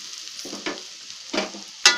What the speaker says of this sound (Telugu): ఇవి కొంచెం వేగాక మెంతాకు వేసి ఒక 2 మినిట్స్ ఫ్రై చేయాలి.